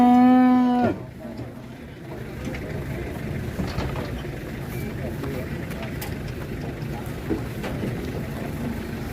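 Sacrificial cattle being unloaded from a truck give a loud, close drawn-out moo at the start, followed by a busy outdoor crowd murmur and clatter with people talking.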